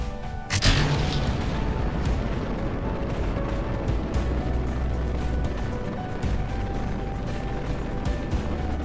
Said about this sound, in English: At T-minus 0 seconds, the P-80 gets ignited and the launch pad releases the rocket.